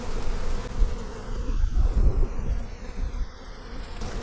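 Honeybees buzzing steadily around an open backyard hive during a spring inspection, a dense low hum with no voices, loud and close as though the insects swarm near the listener.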